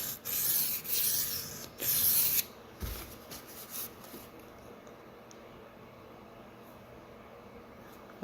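A Sabatier paring knife is drawn across a whetstone in three short hissing strokes, near and fairly loud, followed by quieter scattered scrapes and faint handling noise.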